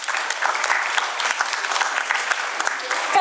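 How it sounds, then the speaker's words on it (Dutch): Applause from the audience at a Belgian primary school's end-of-year proclamation ceremony, a steady, moderately loud patter of many hands clapping continuously, with voices faintly mixed in. "Een applaus graag."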